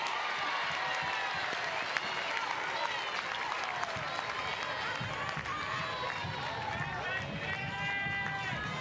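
A capacity crowd at Jane Sanders Stadium applauds and cheers steadily during an NCAA softball championship game between Oregon and Weber State, with a sports commentator talking over the dense clapping.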